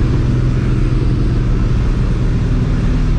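Loud, steady engine roar from a Vortech-supercharged New Edge Ford Mustang GT, a dense continuous rumble held close and unbroken without any talking.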